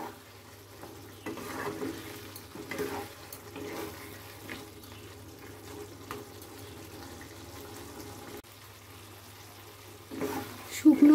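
Murighanto being stirred and dried out in a pan with sugar added, giving soft intermittent scraping and gentle frying sizzle at a close, moderate level, with a louder clatter near the end.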